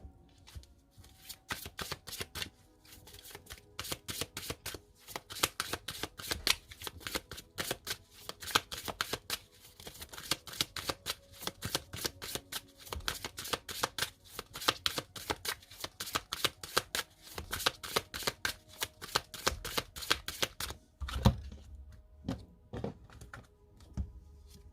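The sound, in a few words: shuffling oracle cards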